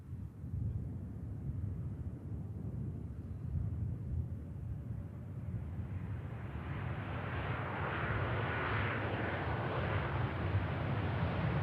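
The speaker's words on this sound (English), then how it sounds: "The A330 arriving in after 7 hours" An Airbus A330 airliner arriving at Manchester Airport after a seven-hour flight, its jet roar growing louder and broader as it approaches over steady wind noise.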